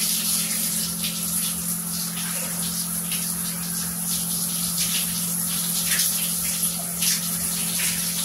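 A shower sprays water steadily while a dog is washed, a continuous close hiss of spray with a low mechanical hum beneath it, with no talking.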